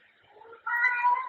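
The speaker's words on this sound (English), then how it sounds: "and pardon my cat." A house cat gives a single drawn-out meow, close and clear, opening with a soft low murmur before the louder cry, with no other sound around it.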